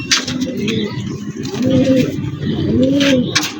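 Pigeons of an old traditional breed coo in a loft, several low, rolling, repeated coos overlapping close by, with soft rustling and faint background noise between calls.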